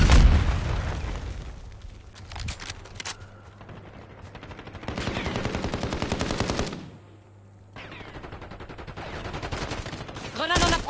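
Gunfire and explosions in a tactical shooter game match: rapid machine-gun bursts, booming blasts and a stretch of sustained rattling fire, loud and close, with in-game voice callouts mixed in.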